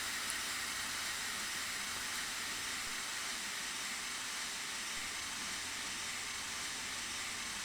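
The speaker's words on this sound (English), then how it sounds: "we should start making puffs of smoke and steam" Steam locomotive on the Somerset & Dorset Joint Railway in Train Simulator Classic, setting off from a shunt with a steady broadband hiss of steam and exhaust that carries on without a break and never rises into distinct puffs.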